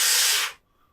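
A high-pitched, hissy breath drawn in through a cupped hand, as in a trumpet warm-up, lasts about half a second and then cuts off abruptly into silence.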